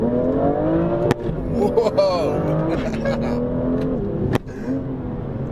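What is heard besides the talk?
BMW M2 car accelerating while drifting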